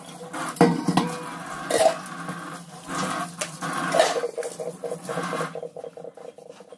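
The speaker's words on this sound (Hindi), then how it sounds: "तो मैंने मांज लिया है बर्तन और अब मैं उसे धो के वापस रखे रख रही हूँ।" Scrubbed utensils being rinsed and set back in an Indian village home kitchen, with clinks and clatters of metal dishes, splashing water and a steady rhythmic patter toward the end, fairly close and without talk.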